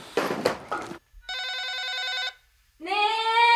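A telephone bell rings in two bursts of repeated electronic trilling, loud and close, after a short stretch of indistinct voice and a pause between rings.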